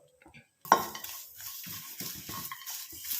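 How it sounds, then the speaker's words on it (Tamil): Coconut pieces and curry leaves fry in a pan as they are stirred. A sharp metallic clatter opens it, then a steady close sizzle continues with scraping stirs, and no one talks. "இப்போ இது ரெண்டையும் நல்லா நம்ம ஃப்ரை பண்ண போகிறோம்"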